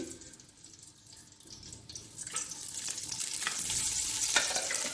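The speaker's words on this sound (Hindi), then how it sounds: "ये भर के 1 चम्मच में डालडा घी डालूंगी, और इसी में मैं डालूंगी ऑयल भी" Dalda ghee and oil heat in a cooking pan for chicken matar pulao, starting with quiet clinks and rising into a loud, continuous sizzle that builds and holds through the second half.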